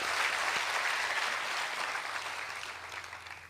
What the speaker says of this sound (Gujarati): એની આખી ટીમ માટે આપણે એક જોરદાર તાળીઓ પાડીએ